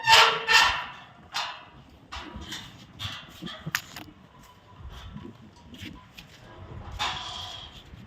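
Small street-dog puppies give a scatter of sharp, high yips and short barks, a couple of quick bursts at first and then sporadic ones, fairly close by with some background noise between them.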